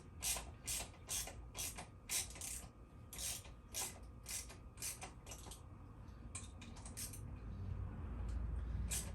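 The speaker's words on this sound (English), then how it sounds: "I'm going to use a ratchet wrench" A ratchet wrench tightens bolts while a HEYBIKE Mars 2.0 1000-watt e-bike is assembled, with quick rhythmic clicking bursts repeated in steady strokes, close and fairly faint, no talking.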